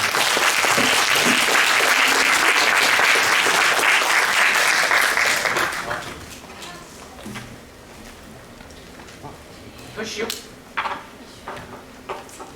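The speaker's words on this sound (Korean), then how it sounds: "힘찬 박수로 모시겠습니다" Loud audience applause greets a pansori performer at a Korean traditional music concert, with dense clapping for about six seconds before it fades to scattered claps and faint room noise.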